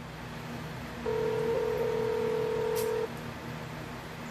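A steady telephone dialing tone sounds for about two seconds over a low background hum, then stops.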